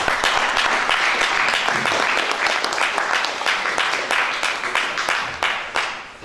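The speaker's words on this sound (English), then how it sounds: "let's give a round of applause" After a lecture on the science of global warming, an audience breaks into loud, dense, sustained applause close by that thins out toward the end.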